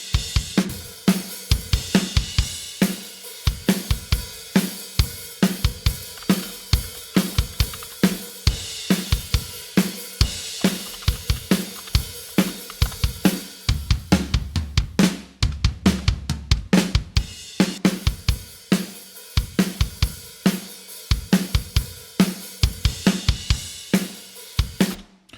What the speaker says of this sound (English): so far the drums sound like this